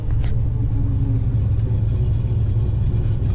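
A drag race car's engine rumbles steadily and loudly at low pitch, close by, as it drives into a racetrack, with no talk over it.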